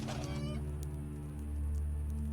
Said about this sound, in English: Why is there a guard chicken?